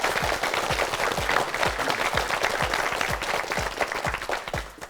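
Studio audience applause on a Korean TV word quiz show, a thick wash of many hands clapping with a few louder individual claps, holding steady before tapering off at the end.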